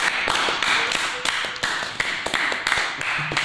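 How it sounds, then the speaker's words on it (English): A small group at a comics book club applauds, with distinct, sharp individual claps in an uneven patter, close and fairly loud throughout. "Let's applaud out"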